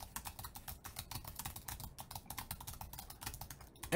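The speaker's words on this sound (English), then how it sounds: "Now some typing to see how it does with noise rejection. Not that a Magic Keyboard is very loud." Rapid, steady typing on an Apple Magic Keyboard, a continuous run of light, crisp key clicks at close range with no voices.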